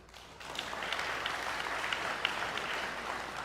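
Steady applause rises from an audience at a British brass band concert as players hold up their euphoniums and baritone horns, a dense even patter of many hands at moderate distance with no talking.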